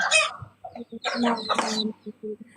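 Chickens clucking inside a chicken coop, a run of short, close clucks and squawks in bursts with brief pauses between.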